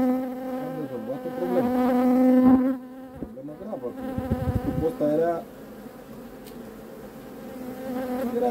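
Honey bees buzz around an open hive being inspected for a problem, a dense steady drone with shifting pitches from many insects close by, rising and falling in strength throughout.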